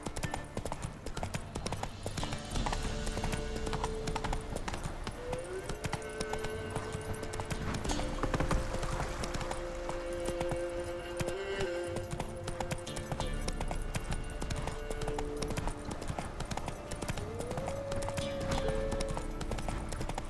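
Geralt's horse Roach trotting in the video game The Witcher 3, with a steady, rhythmic clip-clop of hooves that goes on and on under a sustained musical score and ambient game sounds.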